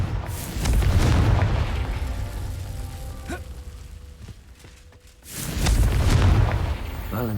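Two deep booming blasts from the Confringo explosive spell in Hogwarts Legacy, each a loud rumbling burst that decays, separated by a quieter stretch with faint ringing tones.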